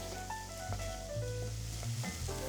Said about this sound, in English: I'm gonna go ahead and add my onions and my poblano peppers in.